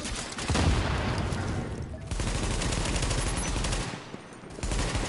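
Automatic weapon fire in The Division multiplayer crackles in dense, rapid bursts with brief lulls between volleys, loud and close throughout.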